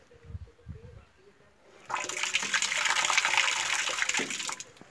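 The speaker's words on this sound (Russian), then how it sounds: "Обновил кран, умывальник у нас вообще теперь чуть ли не евро." Water gushing from a newly replaced tap into a washbasin, switched on after a few soft knocks and murmured talk, then a loud steady splashing flow close by.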